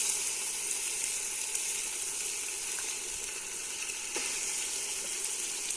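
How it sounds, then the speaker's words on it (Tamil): Whole peeled quail dropped into ginger and garlic frying in hot oil for quail biryani, a steady broadband sizzle hissing evenly throughout, close and alone, with a couple of faint clicks. "இஞ்சி பூண்டு வதவ ஆரம்பிச்சுட்டு இப்போ நம்ம உரிச்சு வச்சிருந்த காடையை நம்ம போட்டுக்கலாம்."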